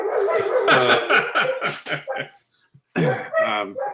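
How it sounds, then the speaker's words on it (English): Two German shepherds bark in a rapid burst of several loud, close barks, a short pause, then more barking. "So it's a couple of German shepherds, so they think they're doing their jobs"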